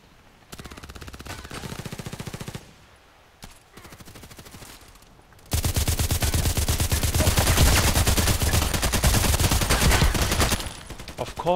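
Rapid automatic gunfire from the video game Contract Wars, in bursts at first and then a long, loud, sustained stream of shots.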